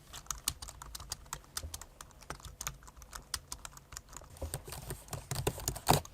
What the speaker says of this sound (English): if you want to hear what the keyboard sounds like